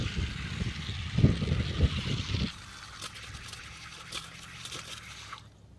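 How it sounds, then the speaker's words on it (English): Water pours and gurgles into the soil berm around a newly planted containerized tree, a close splashing trickle that quiets to a faint soft seep. "So I'm going to fill the berm completely with water."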